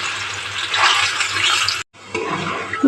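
Pieces of liver dropped into hot oil for deep frying give a steady, loud bubbling sizzle that cuts out briefly, then resumes more softly.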